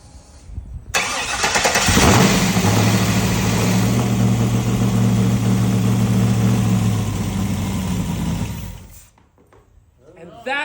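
Engine fitted with Holley Terminator X Max fuel injection on a base tune cranks briefly, fires up loudly and settles into a rough, steady idle for several seconds before shutting off, close by.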